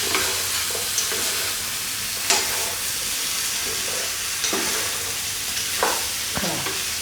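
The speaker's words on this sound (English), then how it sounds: "first we're gonna stir the prawns into the spices, mix the spices" Prawns are stir-fried with spices in a wok for salt and pepper shrimp. A constant loud sizzle fills the clip, and sharp scrapes and clinks from the stirring utensil come at irregular intervals. No one speaks.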